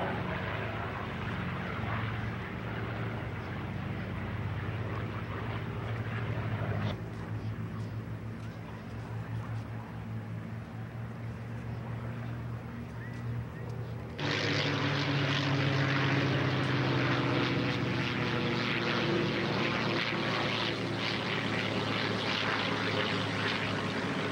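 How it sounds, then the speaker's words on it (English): A propeller training airplane drones steadily at an air show, its engine growing louder and brighter partway through as it passes close by, with no voices. "Plane that trained more American combat pilots than any other aircraft."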